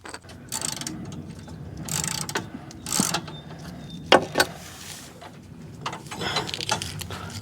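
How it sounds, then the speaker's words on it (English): A 13mm socket wrench undoing a bolt on a Cub Cadet mower deck bracket, quick ratcheting clicks in short bursts with metallic knocks and handling noise, close up. "Then you're going to take a 13mm socket and undo this bolt here."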